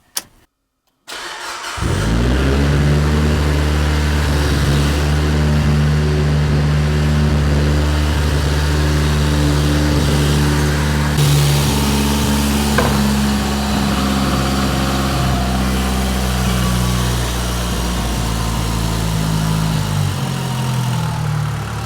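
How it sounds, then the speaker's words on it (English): A Mitsubishi Evo 8 with a freshly fitted motor cranks and fires up, then idles loudly and steadily up close, with a few slight rises in engine pitch over about twenty seconds. "Car is all back together. Let's fire it up."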